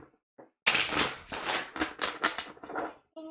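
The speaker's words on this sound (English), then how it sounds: "Two more shuffles." Tarot cards riffled and shuffled in quick bursts, a loud crackling flutter followed by several shorter riffles, close and alone with no talking.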